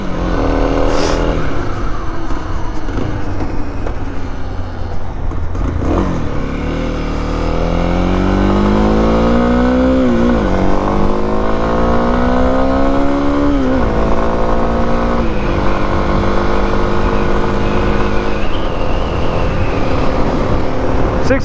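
A motorcycle being ridden, engine droning loudly, then revving up through the gears in repeated rising sweeps with shifts between them, heard close over steady wind noise.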